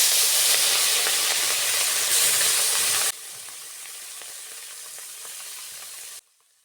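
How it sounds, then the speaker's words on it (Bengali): Fish frying in hot oil in a wok, a steady loud sizzle that drops to a softer crackle partway through and then cuts off near the end. "তেল গরম হয়ে গেছে, এবার মাছগুলো দিয়ে দেব।"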